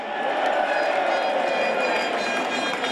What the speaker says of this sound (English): A crowd of Brexiteers cheer Tony Blair.